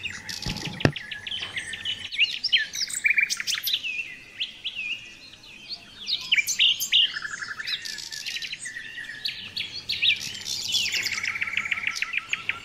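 Several birds chirp and sing among leaves and branches, with bright overlapping tweets and trills running continuously at moderate volume and a faint low background hum.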